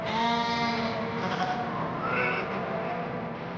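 A large flock of sheep bleats in a Changthang valley in Ladakh, with many overlapping, wavering calls sounding close and continuous.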